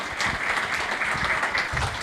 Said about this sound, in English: How about another round of applause for Ms. Shelley?